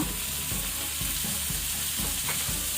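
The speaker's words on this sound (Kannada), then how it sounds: "ಅದನ್ನು ಸಹ ನಾವು ಟೊಮೆಟೊ ಮ್ಯಾಶ್ ಆಗೋ ತನಕ ಫ್ರೈ ಮಾಡ್ಕೊಳ್ಬೇಕು." Tomato, green chilli and ginger frying with onions in a pan for a coastal sardine pulimunchi, a continuous close sizzle with a faint regular scraping rhythm of stirring, alone without talk.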